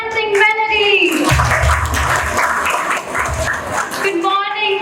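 Audience at a school Teachers' Day celebration breaking into applause, a dense burst of clapping between stretches of speech.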